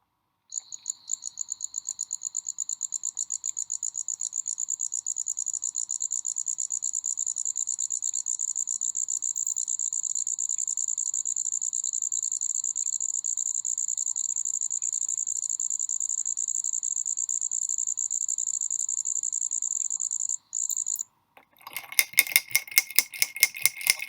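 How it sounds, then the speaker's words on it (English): An American shieldback katydid (Atlanticus americanus) calls at evening with a loud, steady, high-pitched buzzing trill that runs unbroken for about twenty seconds before stopping abruptly, followed by a brief burst of rustling. "Or is it the American shieldback katydid, Atlanticus americanus?"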